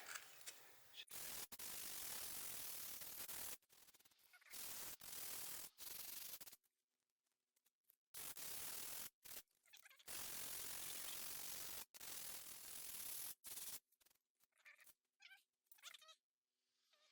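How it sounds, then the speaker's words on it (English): Hand sanding of a cast concrete lamp with 100 grit sandpaper comes through as close, gritty rasping strokes in irregular bursts separated by brief pauses. "So I've got some 100 grit sandpaper here."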